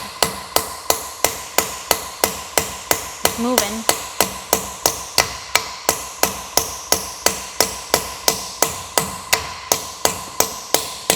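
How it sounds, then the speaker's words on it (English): Steady hammer blows driving a valve guide out of a Ford tractor engine head, about two per second, loud, sharp and ringing, continuing for the whole stretch with a brief spoken remark partway through. "With that, you can drive the guide right out."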